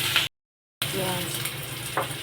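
Onion frying in oil in a pan for a fish tenga curry, a steady close sizzle broken by a short silent gap, then resuming with faint stirring sounds.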